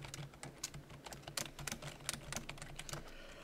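Rapid, irregular clatter of keys typed on a computer keyboard, close and fairly quiet, with no speech.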